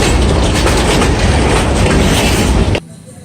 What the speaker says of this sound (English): Here comes the train. The tracks are ringing